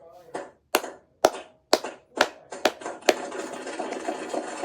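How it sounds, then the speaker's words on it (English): Smart speaker plays a short applause effect: several sharp, separate claps in an uneven rhythm that quickly give way to a denser burst of clapping, close and moderately loud. "Alexa, applause."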